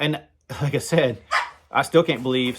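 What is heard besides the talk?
dogs playing on the porch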